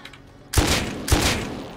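Gunfire in the modded survival game Rust: two sharp, booming shots about half a second apart, each with a short rumbling tail, loud and close with no talking.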